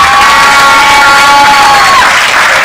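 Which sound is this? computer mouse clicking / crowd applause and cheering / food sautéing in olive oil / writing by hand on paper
crowd applause and cheering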